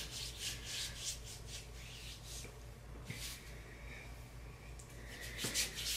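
Skin cream being rubbed onto skin in winter, giving a soft, steady rubbing and swishing texture that carries on continuously at low volume, close to the listener.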